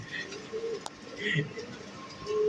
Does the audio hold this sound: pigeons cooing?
yes